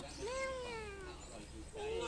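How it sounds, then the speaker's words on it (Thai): A pet cat meows twice, a long drawn-out call followed by a shorter one after a brief gap, close and fairly quiet against a soft outdoor background. "แมวเขาเลี้ยง น่ารักลายตัวนี้สวยจังเลย"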